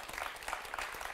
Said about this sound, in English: please give a warm round of applause for Professor Lepore